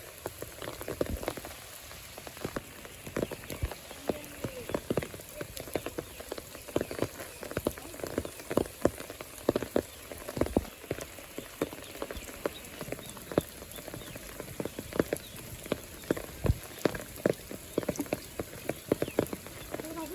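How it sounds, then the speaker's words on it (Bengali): Monsoon rain falls steadily in Sylhet beside water-filled canals, a constant patter of drops on surfaces mixed with frequent frog croaks close by, with no one talking. "এখনও বৃষ্টি থামার কোনো লক্ষণ নেই দেখতে পাচ্ছেন"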